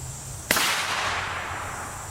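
A single sharp rifle shot firing an M80A1 round at an NIJ Level IV armor plate, one abrupt loud crack with a short ringing decay and no talk.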